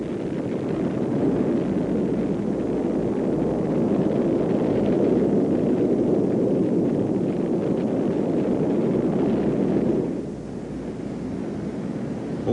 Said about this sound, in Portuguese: Houve uma outra erupção.